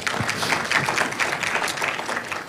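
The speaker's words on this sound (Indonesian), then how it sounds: "Beri tepuk tangan juga buat beliau." A church congregation applauds a pastor with steady, moderately loud clapping that continues evenly throughout, with no talk over it.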